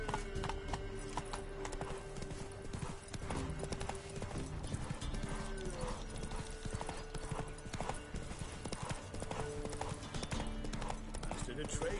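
Horse hooves clip-clop steadily through The Witcher 3 game world, a continuous rhythmic trot over layered game music and ambient sound, with a voice talking over it at times.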